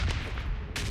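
Gunfire from a shotgun in a video game's volcano mode, a couple of loud broadband blasts at the start and end of a one-second stretch, with the weapon's report standing out over a constant low background rumble.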